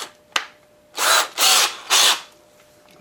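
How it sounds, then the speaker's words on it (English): A power drill whirs in three short, even bursts, close and loud, following a single sharp click as the drill chuck is tightened, during repair work on a Maytag 72 engine. "Let me tighten my drill up here."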